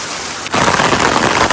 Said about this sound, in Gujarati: જબરે છાંટે વરસે હો ભાઈ.